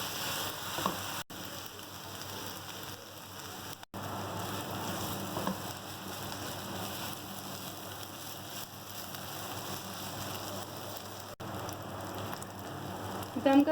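Minced meat with garam masala frying for dum ka qeema, a soft continuous sizzle at low level, fairly steady with a few small clicks.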